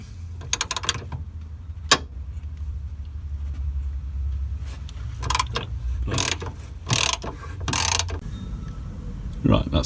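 Ratchet wrench loosening a bolt on a Mazda MX-5 anti-roll bar bracket, heard as close mechanical clicking in a few short bursts over a low background hum.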